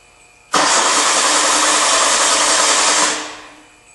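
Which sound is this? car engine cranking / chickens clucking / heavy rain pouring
car engine cranking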